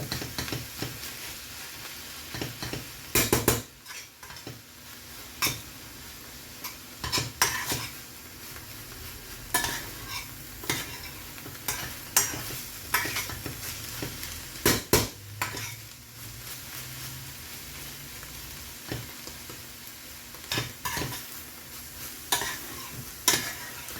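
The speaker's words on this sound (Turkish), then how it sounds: "karıştıralım." A utensil scrapes and stirs through mushrooms sizzling in a pan, with occasional sharper clinks against the metal and a steady frying hiss underneath.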